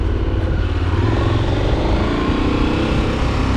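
Big 2020 KTM 1290 Super Adventure R adventure motorcycle ridden on dirt, its engine droning steadily with wind rush and clatter, loud and close throughout.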